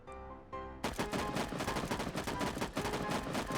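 Rapid automatic fire from an M4 rifle in a shooting video game, a dense, loud burst of repeated shots that runs continuously after a short lead-in, with no voices over it.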